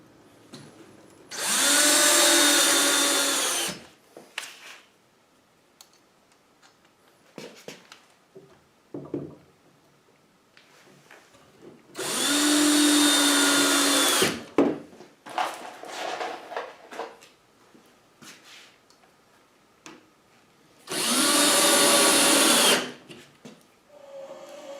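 A random orbit sander fitted with 80 grit sandpaper, hooked to a vacuum cleaner, takes slivers off basement storage lumber in three loud bursts of a few seconds each, with quiet gaps and small knocks and handling sounds in between.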